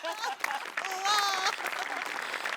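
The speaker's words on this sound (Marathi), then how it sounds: "तर या जादूसाठी एकदा तुझ्यासाठी टाळ्या." A studio audience at a comedy show claps for a magic act, a dense rush of applause that carries through the whole stretch, with a loud voice speaking over it.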